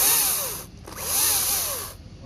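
Makita electric chainsaw running with its chain brake set, a steady high-pitched motor whine with sweeping tonal bends that dips briefly near the middle before resuming, close and fairly quiet.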